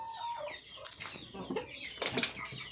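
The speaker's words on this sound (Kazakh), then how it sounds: "Осы тауықтар." Backyard hens, including Lohmann Brown layers, cluck softly in short scattered calls at a moderate distance, with no talk over them.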